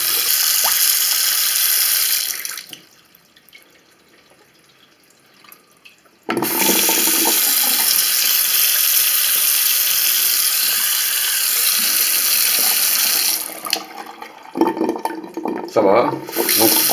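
Water runs strongly from a tap and drains freely down a freshly unclogged bathroom sink, a loud steady rush that cuts out for a few seconds and then resumes, with brief clattering near the end.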